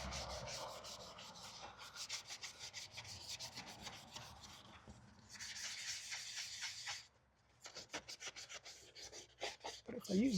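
Wet sanding of the clear coat on a boat hull, rapid rhythmic rubbing strokes close up in bursts, with a short pause midway before the scrubbing resumes.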